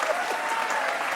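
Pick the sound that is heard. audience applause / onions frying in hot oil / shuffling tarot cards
audience applause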